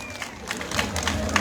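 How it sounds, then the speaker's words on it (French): An audience at a public talk bursts into a short round of clapping and murmuring, a dense wash of hand claps that lasts about a second and a half. "Ça s'applaudit ça s'applaudit."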